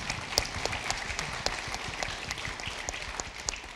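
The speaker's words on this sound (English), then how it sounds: "let's give them a round of applause" Audience applause at a ceremony marking the 200th anniversary of diplomatic relations between Mexico and the United States, dense steady clapping with sharp claps scattered through it, moderately loud and continuous.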